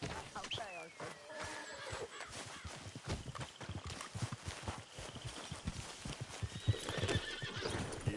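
A horse in Red Dead Redemption walks with steady clip-clopping hooves and gives a clear whinny, with other game sounds and voices in the background.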